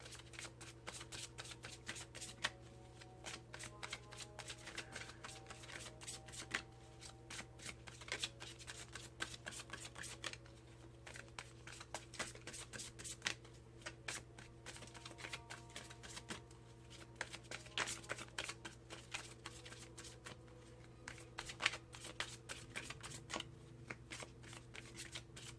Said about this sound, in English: Now, let's pull Miracles Now from Gabrielle Bernstein. We will get to the love cards